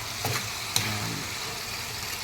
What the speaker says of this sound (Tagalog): matagal yung paggisa para manuot yung lasa doon